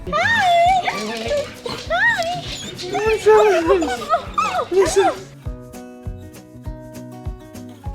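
Dogs make yips, whimpers and short barks, close and loud, with a person speaking over them, before a lower steady hum takes over.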